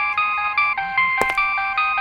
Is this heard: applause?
no